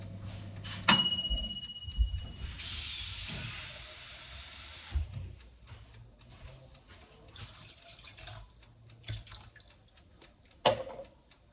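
About 70 centilitres of cold water poured into a pot over stew ingredients: a clatter, then a few seconds of steady splashing pour, followed by quieter drips and kitchen handling noises.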